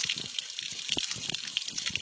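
Hot water mixed with oil gushes from a borewell in Uttarakhand, a steady, moderately loud rushing flow that holds throughout.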